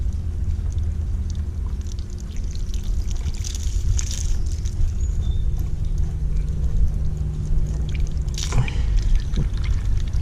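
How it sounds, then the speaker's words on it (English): Water drains from the hot and cold lines of a travel trailer through open valves beneath the rear, below the water heater, giving a steady low rushing pour with dribbling splashes and a brief louder gush near the end. "you want to open up the hot and cold water valves under the rear of the trailer"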